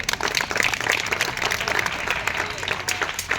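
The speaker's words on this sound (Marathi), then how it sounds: "त्यांचं अगोदर आपण जोरदार टाळ्या वाजवून स्वागत करायचं आहे" An audience at a children's fair gives a guest a burst of applause: dense, continuous clapping from a crowd that stays loud and steady throughout the short stretch.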